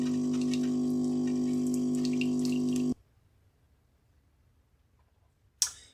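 Coffee machine brewing in a yacht pantry: a loud steady motorised hum with bubbling, hissing liquid for about three seconds, then cutting off abruptly to near silence, followed by a brief sharp hiss at the end.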